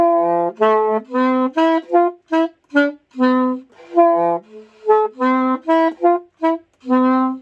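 An alto saxophone plays a detached, bouncy melody, short and held notes, close and clear with brief pauses between phrases.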